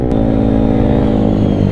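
A 213cc scooter engine fitted with performance parts revs hard and steadily, a loud, continuous high-pitched engine roar close by with a sustained buzzing drone and no voices.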